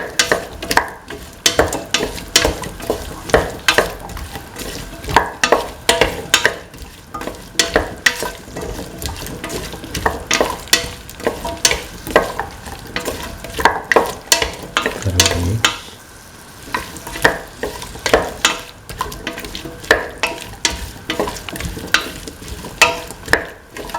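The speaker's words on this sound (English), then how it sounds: "Mix the tomato pieces and the pumpkin pieces together." Tomato and pumpkin pieces being stirred together in a pan, a steady run of close spoon scrapes and knocks over a light sizzle, with a brief pause partway through.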